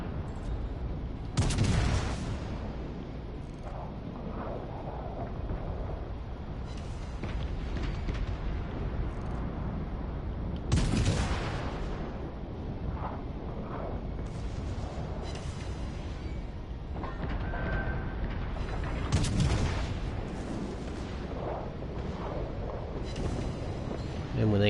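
Heavy naval guns firing in a PS4 warship battle against cruisers: three deep booming shots spaced several seconds apart, loud and near, over a constant rumbling battle background, with a voice talking between the blasts.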